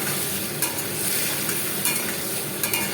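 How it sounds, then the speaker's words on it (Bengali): Pumpkin pieces frying in oil in a pan, a constant close sizzle with a few brief stirring scrapes and clinks over it. "এই দেখো কুমড়ো ভেজে নিচ্ছি প্রথমে।"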